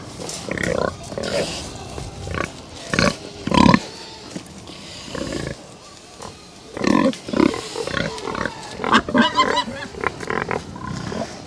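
Pigs on a farm oink and grunt in scattered bursts, some close and loud, with a person calling to them in between.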